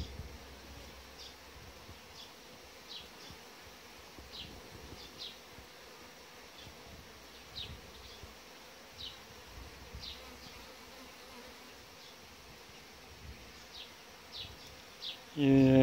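Honeybees buzz steadily at close range inside an opened hive box while feeding for winter, a dense, continuous drone with scattered louder passes of individual bees and no talk.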